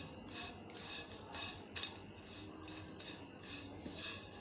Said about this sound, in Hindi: थोड़ा सा मैं इनको पहले भुनाई करूँगी